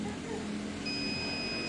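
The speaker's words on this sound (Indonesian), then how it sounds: "Tekan tahan ada bunyi suara buzzer panjang itu nyimpen." A T12 soldering station gives a long, steady high-pitched buzzer beep as it saves a temperature preset, a thin tone sustained under a person's voice.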